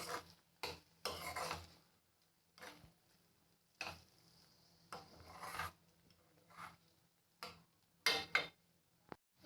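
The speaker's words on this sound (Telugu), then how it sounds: "దీన్ని బాగా కలుపుకోవాలి ఎగ్స్ కూడా చిన్న చిన్న ముక్కలు అయి కలిసిపోయేలాగా" Egg curry being stirred in a pot, the egg pieces breaking into the masala, heard as intermittent scraping and rasping strokes in short bursts with quiet gaps between them.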